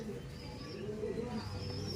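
Soft, low pigeon cooing repeats steadily beneath a constant background hum, with a few faint chirps nearby.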